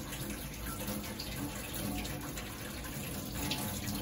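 Tap water runs steadily into a sink for rinsing vegetables, a continuous close splashing hiss with no talk.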